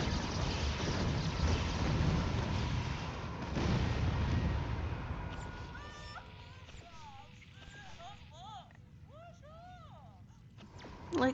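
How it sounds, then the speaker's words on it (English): An Uber turret fires in the video game Spore during a fight against the Grox, a heavy rumbling barrage of booming shots that fades into lighter game effects, with a voice talking over it. "I have an Uber turret."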